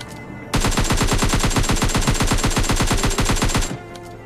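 Rapid automatic rifle fire from M4 and AKM rifles in the mobile shooter PUBG Mobile Lite, a loud sustained burst of evenly spaced shots lasting about three seconds before stopping abruptly.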